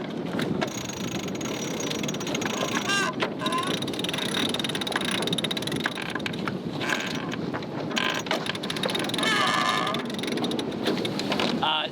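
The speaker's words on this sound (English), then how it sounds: "because it's quite windy out here." Strong wind roars across the microphone on a sailboat under sail with a reefed mainsail, a constant loud rushing with gusty buffeting and some mechanical creaks, while people speak now and then underneath.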